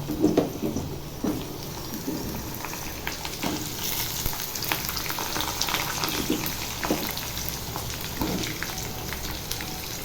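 Potatoes fry in hot oil with bay leaf, dried chillies and whole garam masala, giving a dense, continuous crackling sizzle like rain, with a few louder pops throughout.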